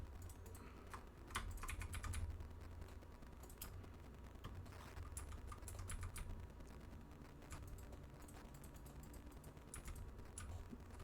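Computer keyboard keys clatter in quick irregular bursts while someone plays Minecraft, close and fairly quiet over a low steady hum, with no talk.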